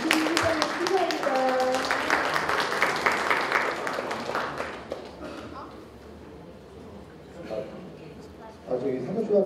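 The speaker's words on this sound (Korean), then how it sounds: "박수 받겠습니다." Audience at a Rotary Club founding ceremony gives a burst of clapping that swells then fades, a voice speaking over it, with a second brief round of applause near the end.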